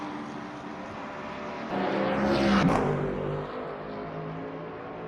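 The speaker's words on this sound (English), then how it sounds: "So Nick Westy in the BMW, currently in sixth." A BMW GT3 race car engine drones steadily at Monza in the Le Mans Ultimate racing game, swelling briefly as the car passes close, then settling back to a constant roar.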